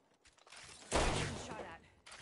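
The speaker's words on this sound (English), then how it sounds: "I am taking fire, friend." Burst of gunfire in a PS4 shooter, a sharp loud crack followed by a decaying rattle, with a few faint shots around it.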